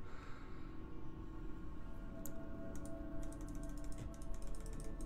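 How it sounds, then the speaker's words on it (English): Quiet computer mouse and keyboard clicks while moving through game menus, a quick run of light taps that turns into rapid bursts of clicking over a soft steady hum, close and faint, no talking. "I'm sure you can hear me just clicking through all this."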